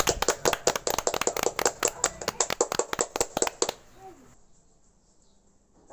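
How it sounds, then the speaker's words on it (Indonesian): Classroom students clapping for group 2 in a mathematics lesson, a burst of sharp, separate hand claps from a small group lasting several seconds, then stopping abruptly into near quiet. "Jadi mari kita berikan tepuk tangan untuk kelompok 2."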